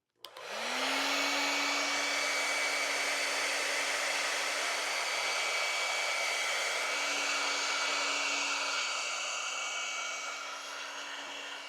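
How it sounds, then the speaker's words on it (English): A handheld blow dryer running on high heat to dry pampas grass, a loud steady whooshing roar that starts abruptly and holds for about eleven seconds before easing slightly, with no talk. "we have not used the blow dryer on it"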